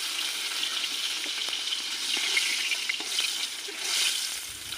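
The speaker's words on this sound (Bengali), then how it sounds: "আমি এবার বাকি মাছগুলো ভেজে নেবো এই তেলেতেই।" Prawns sizzling and crackling in hot oil in a pan, a steady close frying hiss with occasional stirring clicks and pops.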